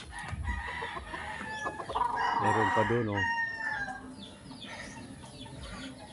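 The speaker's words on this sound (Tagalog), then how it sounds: "Daming mga manok." Chickens cluck nearby while a rooster crows loudly in the middle; someone speaks briefly over the barnyard noise.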